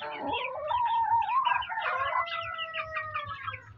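A large hen close by gives a drawn-out, wavering call followed by a string of rapid clucks, loud and alone.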